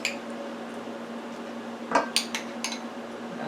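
Utensil scraping and clinking against a baking dish while canned corn mixed with margarine and garlic is spread for a chicken shepherd's pie; a few sharp clinks cluster midway over a steady low hum, with no talk.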